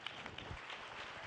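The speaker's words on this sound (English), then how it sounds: "please join me in applauding this group" Soft, distant applause from a conference summit crowd, a dense patter of many hands clapping at once with no voices on top.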